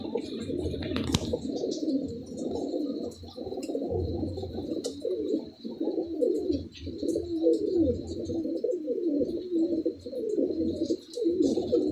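A flock of kept pigeons coos continuously, dense layered cooing close by with faint chirps and a steady background tone, no talk.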